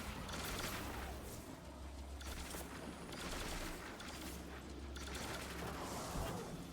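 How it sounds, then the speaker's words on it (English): Enemies shooting in Destiny 2: continuous rapid gunfire and blasts from many directions pile up into a dense, unbroken barrage that stays steady and moderately distant throughout. "There are so many things shooting at me."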